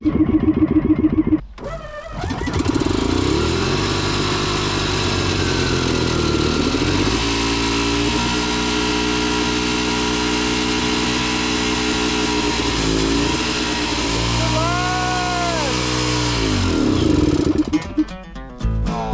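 A Cushman Trackster with rewired ignition cranks and catches, then its small engine runs with a steady throbbing idle, rises in a couple of revs, and sputters out near the end.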